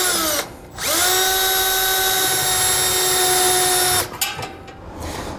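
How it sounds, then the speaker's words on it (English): A drill boring a small hole with a long, thin bit beneath a truck bed while fitting an underbed fifth wheel hitch kit: one loud, steady high-pitched whine of about three seconds with a brief spin-up and an abrupt stop, no talking. "we're gonna take just a small, long drill bit. We wanna get our hole started from down here first."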